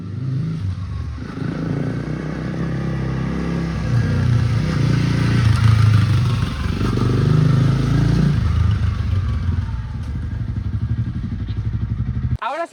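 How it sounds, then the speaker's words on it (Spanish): A motorcycle engine runs and revs at an overgrown, abandoned military base in Galicia, a steady low rumble that swells with throttle, close and continuous with some rattling clatter, cutting off at the end. "Venga, arranca la moto."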